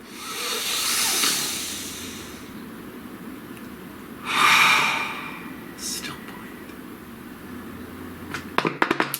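A deep breath drawn in and let out as a soft, airy hiss, followed by a second louder breath a few seconds later, quiet and close, ending with a few faint clicks and rustles.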